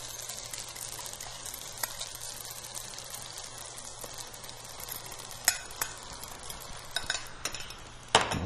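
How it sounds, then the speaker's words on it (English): Carbonara sauce being stirred into pasta in a pan, with soft continuous sizzling and wet mixing plus occasional sharp clicks of a utensil against the pan, close and fairly quiet, no talking. "Okay, so now all we have to do is mix it up."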